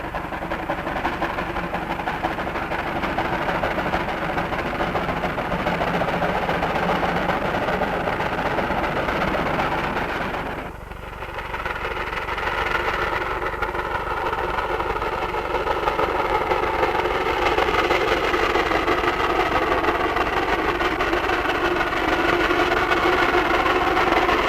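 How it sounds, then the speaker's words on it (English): A steam logging locomotive runs with a steady, close mechanical rumble and rhythmic churning that briefly dips before resuming fuller, with no voices. "logging locomotives, specially built to go where railroads never went before or since"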